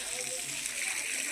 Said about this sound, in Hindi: पानी मारा था। पानी मारत काबर मारत जी पानी? रोड ला साफ करत था।